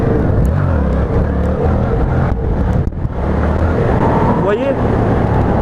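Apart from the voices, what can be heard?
Yamaha MT-07 motorcycle engine, shifting gears during wheelie practice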